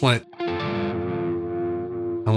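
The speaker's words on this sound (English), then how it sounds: "So we got a very slow rate on the univibe." An electric guitar runs through a univibe set to a slow rate for a psychedelic blues-rock tone. A sustained, slowly churning chord rings loud and close, with brief talk just before and after it.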